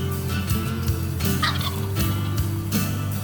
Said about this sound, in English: we hear the gobbler, and he's fairly close.